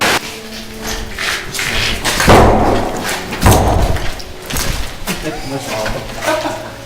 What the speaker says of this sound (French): il y a une porte qui s'est fermée tout seul